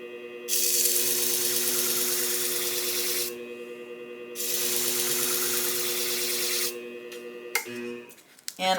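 Japanese cobalt steel beveled-edge shears being sharpened on a slightly used 1000 grit flat plate, heard as long steady grinding strokes with short pauses between, ending in a few metallic clinks.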